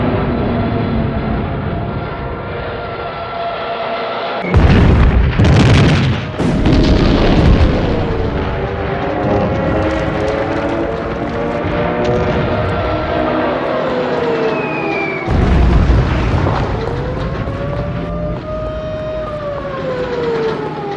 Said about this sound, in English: Hitler orders the bombing of Warsaw.